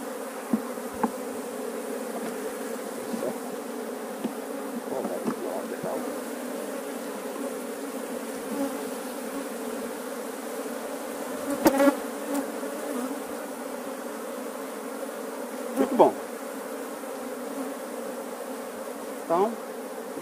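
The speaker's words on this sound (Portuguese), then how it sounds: "Aqui um enxame" A swarm of honeybees drones steadily inside a hive box during an inspection after capturing a flying swarm, a dense continuous buzz with a few louder passing bees flaring up near the microphone.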